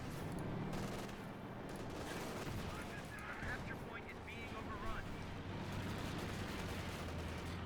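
Heavy rattling gunfire in Company of Heroes 2, a dense, continuous battle roar of overlapping shots and bursts filling the whole stretch, with a voice talking over it.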